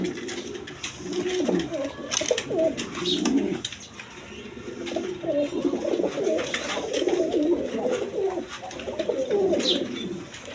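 A big-sized breeding pair of Tulip pigeons at a pigeon dealer's coo continuously in low, rolling, throaty phrases, close by, with faint background noise throughout.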